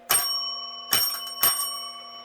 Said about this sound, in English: had a bell, and it would go ding,